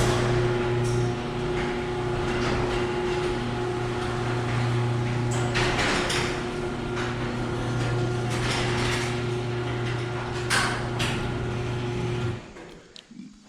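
A garage door running on its motor with a steady mechanical hum and rattle, apparently after a cable problem, continuing evenly for about twelve seconds before stopping abruptly, close and fairly loud.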